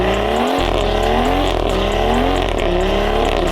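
A 2016 BMW M140i with its B58 turbocharged inline-six roars hard under load, rising through gears with brief shift breaks; loud, sustained and close, with no talk.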